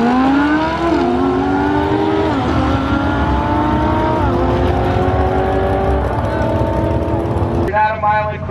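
A 2015 Lamborghini Huracan revs hard and loud, its engine pitch climbing in repeated stepped rises as it accelerates through gears near the rev limiter, then cutting off abruptly at the end.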